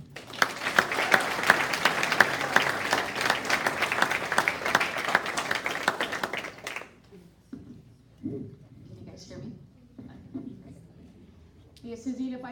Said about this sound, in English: a big round of applause to our Aztec Scholar Band and Color Guard Regiment